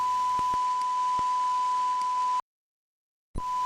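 A steady pure tone from an RF signal generator, received on an SDR receiver: a continuous beep with faint clicks, cut off abruptly into silence for about a second before the tone returns.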